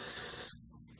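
Cleaner sprays through carburetor parts from a 1983 Honda GL1100 Aspencade motorcycle: a short, close, loud hiss of about half a second that cuts off abruptly, leaving faint room noise.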